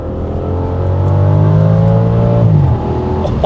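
An Audi estate car fitted with a Lamborghini V10 engine, heard close as a loud, sustained revving drone that climbs slowly in pitch and then drops away abruptly near the end.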